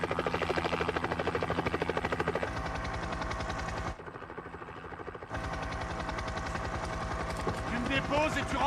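A helicopter flies close by in a French action film, its rotor thudding in a fast, steady chop that briefly dips before returning, with bursts of other action noise over it.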